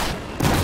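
Gunfire in the Battlefield 4 shooter game during a helicopter fight, a short burst of dense rapid shots that swells louder partway through, heard alone with no talk.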